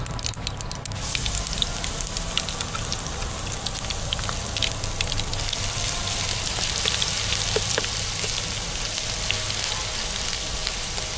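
Ginger garlic paste frying in a hot pan, a loud continuous crackling sizzle that flares sharply at the start and holds steady throughout, with scattered pops and no talking.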